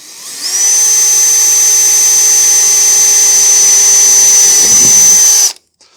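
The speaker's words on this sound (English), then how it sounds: "We're going to drill a hole" A power drill bores a hole into a wall in a darts room, a loud, steady high-pitched whine running continuously for about five seconds before cutting off abruptly, with no talking.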